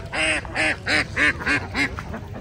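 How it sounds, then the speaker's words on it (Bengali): Ducks at a duck farm beside a fishery quack close by in a quick series of about six loud, nasal calls in a steady rhythm, then fall quiet. "হাঁসগুলো দেখে আরো বেশি ভালো লাগছে।"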